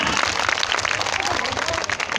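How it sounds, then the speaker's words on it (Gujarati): An audience at a primary school cultural program in Motabhela claps together in a brief, dense burst of applause that holds steady throughout, with a faint voice underneath. "તાળીઓથી બતાવજો આપણે બધા"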